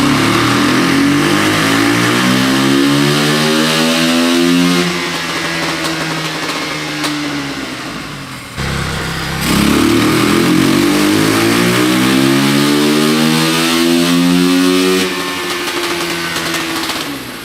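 A 2022 Honda CRF450R motorcycle revs hard on a dyno in two loud, close runs, each climbing steeply in pitch before it drops off, with a brief dip between them.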